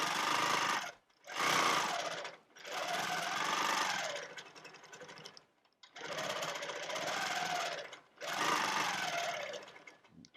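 Domestic sewing machine quilting along a ruler, running in four or five loud, fast stitching bursts separated by short pauses.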